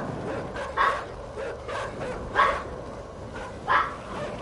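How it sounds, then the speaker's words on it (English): Dogs in a home bark in three spaced bursts, about one per second and a half, moderately loud over a steady low background hiss. "Now my dogs are barking."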